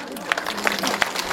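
Audience clapping hands in rhythm at a Marathi devotional kirtan gathering, several sharp claps spaced evenly over a short span alongside singing voices.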